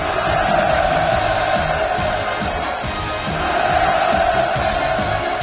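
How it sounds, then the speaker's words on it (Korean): Large crowd cheering at the opening ceremony of the Wonsan Kalma coastal tourist zone, a sustained roar of massed voices that stays loud and continuous throughout. "열광의 환호성이 끝없이 울려갔습니다"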